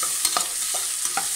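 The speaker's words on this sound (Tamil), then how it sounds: "காய்கறி 1-2 நிமிஷம் நம்ம நல்லா கொஞ்சம் வதங்க விட்டுடலாம்." Beans and potato pieces being sautéed in a pan for vegetable biryani, with a few scraping stirs of a spoon over a soft, steady sizzle, close and alone.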